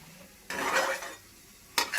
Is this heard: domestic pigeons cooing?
no